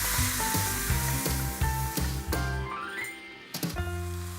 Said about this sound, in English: I'll cook this for about 3 to 4 minutes on a medium temperature, just so we can release all the oils in the chorizo sausage